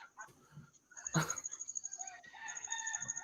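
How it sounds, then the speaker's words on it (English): A rooster crows once loudly nearby, a long rising and falling call, amid quieter clucking and soft background noise. "you can hear that one too. The rooster."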